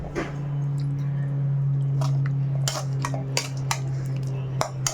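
Brinjal gravy for biryani being stirred in a metal cooking pot, with scattered clinks and scrapes of a spoon against the pot over a steady low hum of the stove.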